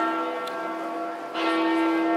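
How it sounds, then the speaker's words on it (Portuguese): Church bells ringing at the Vatican in Rome, sustained resonant tones that hang in the air and swell louder partway through, with no one talking. "pegando as igrejas, batendo sino."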